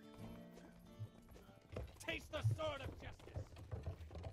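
Horse hooves clip-clopping at a steady gait in the medieval video game Rustler, close and moderately loud, mixed with game music and someone talking over it.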